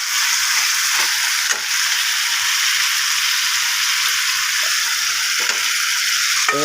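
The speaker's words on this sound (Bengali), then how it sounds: "আলুগুলো দিয়ে দিলাম, নেড়ে চেড়ে ভালো করে আলুগুলোর সাথে মশলাটাকে ভালো করে নেড়ে চেড়ে" Potatoes fry with spices in an oily pan, a loud steady sizzle running throughout while they are stirred, with a few clacks of a utensil against the pan and no voices.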